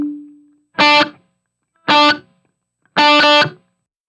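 Three loud, distorted electric guitar chords ring out through a Line 6 POD Go amp and cab block with reverb, each struck alone and held about half a second, spaced roughly a second apart after a fading tail.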